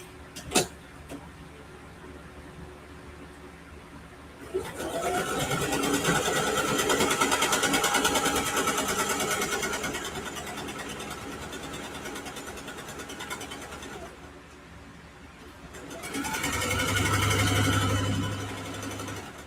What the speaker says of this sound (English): I'm just flipping it over and I'm going to sew the other side.